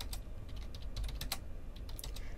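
Quick keystrokes on a computer keyboard click faintly above a steady low background hum.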